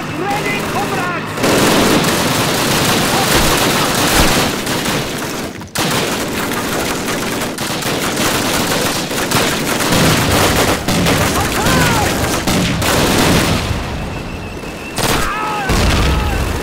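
Dense machine gun bursts and heavy booming anti-tank rifle shots fill a Call of Duty battle scene, loud and nearly continuous with brief lulls, under shouted voices.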